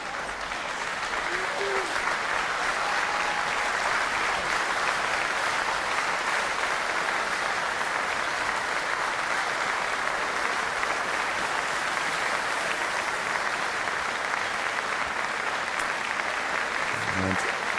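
Sustained applause fills an indoor curling arena at the 2009 European Curling Championships final, as the crowd claps steadily for the Latvian team leaving the ice, broad and continuous from start to finish.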